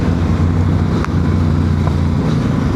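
A Yamaha Tenere motorcycle rides an off-road rally track, its engine a steady, loud low drone with heavy wind buffeting throughout and no pauses.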